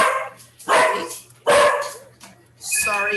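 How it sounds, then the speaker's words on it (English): A dog barks in a few loud, close bursts while a phone rings in the background during a room analysis, with a steady low hum underneath. "Whenever the phone rings, the dog barks."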